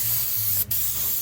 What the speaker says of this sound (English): So some airbrushing now.